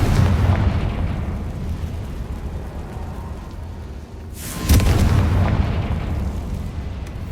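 A Confringo blast spell goes off in Hogwarts Legacy: a sudden booming burst around the midpoint with a sharp crack, then a rumbling decay over a steady low background drone.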